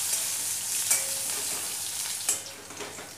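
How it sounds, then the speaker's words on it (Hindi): Finely chopped onion fries in a pan with a soft, steady sizzle, punctuated by a couple of brief scrapes and taps as it is stirred. "कुछ देर चलाने के बाद हम इसमें ये प्याज डाल देंगे जिसे हमने बारीक काट रखा है, इसे भी चलाएंगे कुछ देर।"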